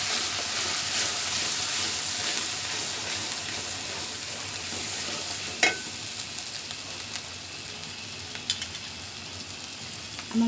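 Ground chili, coriander and turmeric sizzle and fry in a pan as they are stirred into a masala, a steady hiss with occasional scrapes and clinks.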